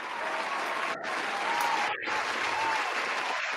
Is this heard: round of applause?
yes